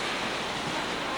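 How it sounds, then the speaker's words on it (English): Niagara Falls water cascading down into the Niagara River, seen from near the Canadian side, makes a steady, dense roaring rush that fills the whole moment without a break. "A roar, the water cascading down into the Niagara River"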